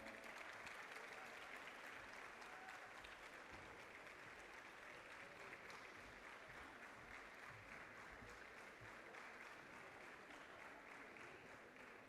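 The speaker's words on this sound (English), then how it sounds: "Please give a huge round of applause for our first runner-up team" Sustained audience applause at a national robotics contest award ceremony, DD Robocon 2024 in India, honouring a runner-up college team. Thick, even clapping from a large hall crowd runs without a break for about twelve seconds, heard at a moderate distance.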